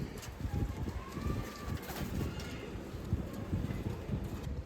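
Pigeons are handled and stamped at a pigeon-club tournament in Amritsar, with soft cooing, scattered wing flutters and light knocking sounds, fairly faint, over a low murmur of people.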